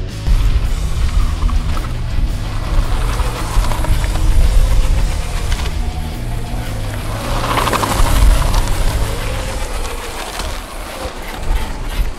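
A homemade go-kart's small engine runs steadily throughout a test drive, a loud, continuous low drone with slight swells in pitch and level, nearby and with no talking.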